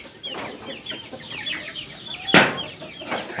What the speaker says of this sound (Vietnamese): Ở đây nhà bạn mình cũng có nuôi gà đây,